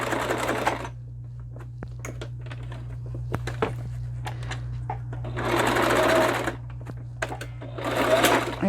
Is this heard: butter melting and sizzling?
no